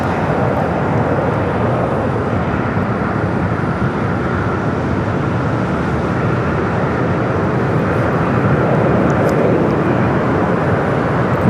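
An airliner at Los Angeles International Airport sends out a steady, loud, broad roar of jet engine noise that holds without a break, with no talk.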